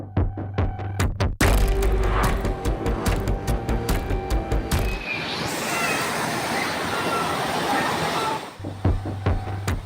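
Floodwater from a sudden cloudburst rushes loudly through a street where children were waiting for a school van, a steady churning roar that swells midway after some thumping knocks and voices at the start.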